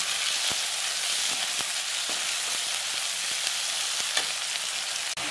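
Curry leaves frying in oil in a pan for a Chettinad fish curry, a steady loud sizzle with a few sharp pops and crackles, no talking.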